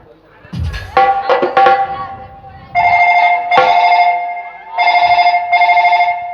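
A phone rings during a comedy stage play. It plays a bright, tonal ringtone melody in repeating bursts that come after some brief voices and knocks at the start.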